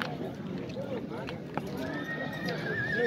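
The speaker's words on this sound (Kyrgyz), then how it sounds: "8 жашар үйүрдүн аты экен," Livestock market at Nookat, where a big black 8-year-old herd horse gives a high, drawn-out whinny near the end among nearby hoof clops, with bustling crowd chatter and voices talking throughout.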